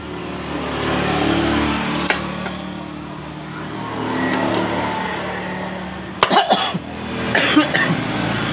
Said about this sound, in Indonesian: Mohon maaf, saya batuk.